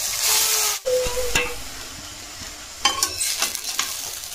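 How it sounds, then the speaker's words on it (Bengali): Chow mein noodles frying with onion and chilli in a pan, a steady close sizzle with stirring scrapes and clatters of the utensil against the pan, no voices. "চাউমিনটা আমি ভালো করে ভেজে নেব।"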